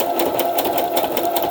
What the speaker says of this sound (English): I'm going to sew around the outside completely